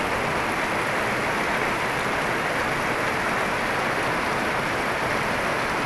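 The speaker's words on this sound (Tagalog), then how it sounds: "Lakas ng ulan sa bukid." Heavy rain pouring steadily on a farm field, a dense unbroken hiss of downpour at constant loudness throughout, with no voices.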